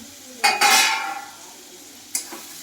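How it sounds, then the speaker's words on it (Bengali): Pointed gourd and potato stirred into hot spiced oil in a pan, two sharp spoon scrapes and clinks against the metal over a soft sizzle, close and brief. "এবার আমি এই পটল আর আলুটা দিয়ে বেশ খানিকক্ষণ দু চার মিনিট কষিয়ে নেব"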